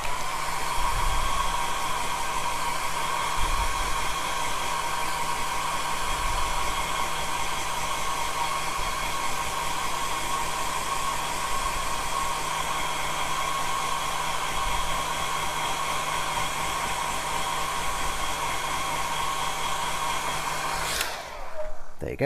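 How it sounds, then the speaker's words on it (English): A hair dryer drying paint on a Gundam model blows steadily at close range with a constant whooshing roar and faint whine, running for about twenty seconds before switching off. "Let me just dry it with the hairdryer."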